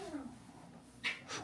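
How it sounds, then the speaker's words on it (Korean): A gentle, calm house cat gives a soft, short meow indoors, quiet and close, followed by a couple of faint brief noises. "고양이가 엄청 순하네요."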